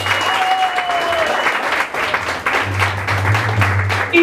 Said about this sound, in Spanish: Un aplauso bien fuerte, bien bonito.